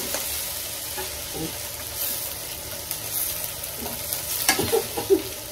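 Tomatoes and spices fry in a pan under an even sizzle while a spoon stirs and taps against the vessel, with scattered scrapes growing busier toward the end.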